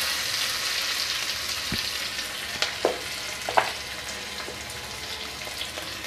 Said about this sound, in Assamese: আৰু এতিয়া কাটি থোৱা পিঁয়াজখিনিও দি দিছোঁ। ভালদৰে লৰাই দিছোঁ এইখিনি।